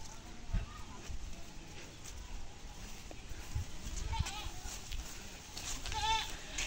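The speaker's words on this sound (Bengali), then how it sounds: "আমাদের ছাগলগুলো এই যে দেখেন কি অপেক্ষা করে থাকে" Goats waiting at a rural home, a few short bleats rising near and far over ambient outdoor noise, with people talking in the background.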